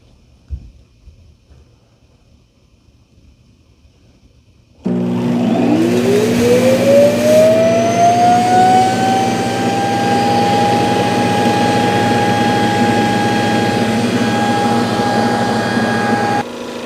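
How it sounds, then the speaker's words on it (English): A White Shark AI Ultra robot vacuum docks and its base starts auto-emptying: quiet at first, then a sudden loud, steady whooshing suction roar with a rising whine that holds to the end. "here it's going to dock itself and auto empty"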